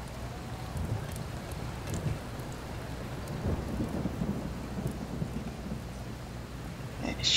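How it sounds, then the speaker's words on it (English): Steady video game rain hisses continuously while low thunder rumbles underneath, a soft, even nighttime storm with no voices. "It's raining."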